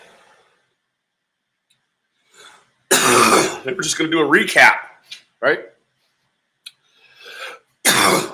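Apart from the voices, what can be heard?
coughing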